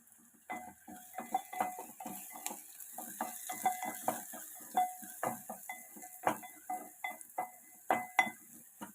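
Curry leaves hit onions already frying in a pan, giving rapid repeated clinks, scrapes and crackles of a spoon stirring against metal at moderate volume, under a steady background hiss.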